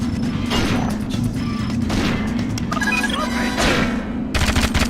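Continuous rapid gunfire from the video game 007: Agent Under Fire crackles in dense bursts of close-range shots, running almost without pause.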